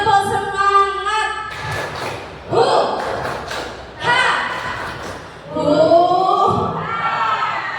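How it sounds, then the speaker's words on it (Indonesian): Teachers perform the 'tepuk semangat' spirit clap as a group, voices chanting and calling out together over bursts of rhythmic clapping that rise and fall across several short phrases. "Ayo kita sekali lagi, tepuk semangat."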